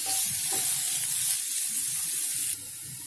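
Potato pepper fry with pepper, cumin and fennel mixed in a pan, soft hissing sizzle under light stirring scrapes, fading slightly toward the end.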